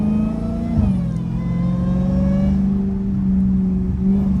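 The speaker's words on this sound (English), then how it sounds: "I know you heard this supercharger behind your ass" A Dodge Hellcat's supercharged engine revs loudly nearby with a steady supercharger whine layered over the rumble, the pitch rising and settling.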